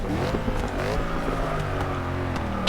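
A Black Series car at Spa runs at full throttle, its engine a loud, steady high-revving roar with harmonic whine and slight pitch shifts, close and continuous without talk.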